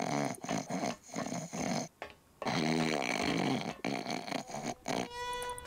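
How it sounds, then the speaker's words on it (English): Loud, rough snoring from a character in Grim Fandango Remastered, a series of heavy rumbling breaths with short pauses between them, ending in a brief tonal game sound. "he snores like a semi-engine"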